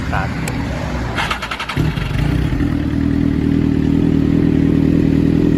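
A Suzuki GSX-R1000 K9 motorcycle engine cranks with a short clatter, catches, and settles into a loud, steady idle up close.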